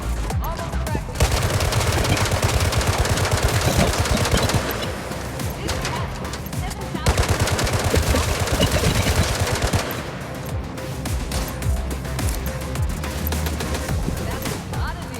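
Rapid bursts of machine gun fire from the Gangstar Miami mobile video game, loud and nearly continuous across the whole stretch with brief lulls, set over a busy game soundtrack.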